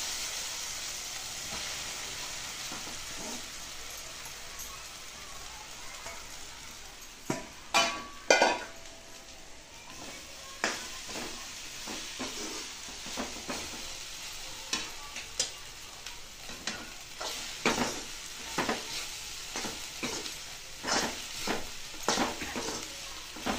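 Finely chopped soybean chunks sizzle in a pan for a soybean bhurji, with a steady frying hiss and repeated clinks and scrapes of a spoon stirring against the pan, louder in bursts toward the middle and end.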